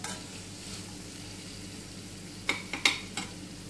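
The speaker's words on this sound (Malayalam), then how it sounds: "ഒരു സബോള വലിയൊരു സബോള എടുത്തത് അത് ഒന്ന് സോർട്ട് ചെയ്ത് ഒരു ലൈറ്റ് ട്രാൻസ്ലൂസൻ്റ് കളർ ആവണ വരെ ഒന്ന് സോർട്ട് ചെയ്യാം" A large onion sautéing in a pan for chicken pizza, a soft steady sizzle underneath with a few sharp stirring scrapes and clinks of a utensil near the end.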